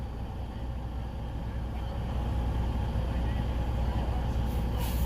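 Truck idling nearby while blocking the way, giving a steady low engine rumble that holds constant throughout, with a brief hiss near the end.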